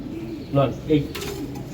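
A club-raised racing pigeon coos twice, close and fairly loud, with a brief rustle or flutter afterward over quiet background.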